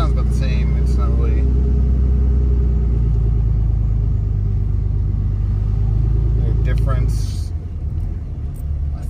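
A Cummins diesel engine with its grid heater deleted idles and runs with a deep, loud rumble and a low drone, then the engine note drops off sharply near the end.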